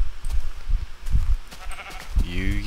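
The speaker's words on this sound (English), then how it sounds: "Sheep. Sheep." Sheep in the video game Shrine of the Demon Sword, with a short, harmonic bleat near the end over busy, thumping game sounds.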